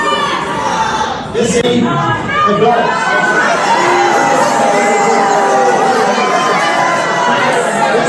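A crowd gathered at a representative's town hall, loud and sustained, with shouting and jeering voices that swell after a brief dip and then hold steady throughout, with a voice speaking over the din.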